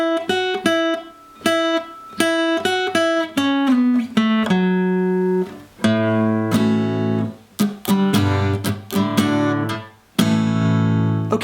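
Lead guitar plays a song's intro solo at a slow practice tempo, with clear picked notes and double stops in distinct phrases. It is close, loud and without talk.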